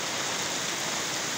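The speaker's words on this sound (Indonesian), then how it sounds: "Langsung turun hujan." Heavy rain pours down in the countryside with wind, a dense, constant hiss close by that fills the moment without any break or voices.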